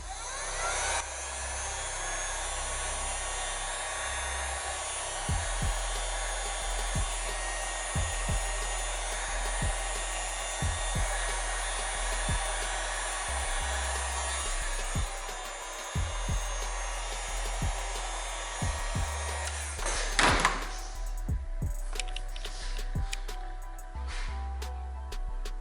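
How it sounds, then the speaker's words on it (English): A heat gun blows a steady, loud, broadband hiss while warming dry carbon fiber vinyl wrap on an iPad Pro, with scattered soft clicks and handling taps before the airflow cuts off near the end. "I'm just gonna heat it up a little bit more and press it in. So I'm just gonna take the heat gun."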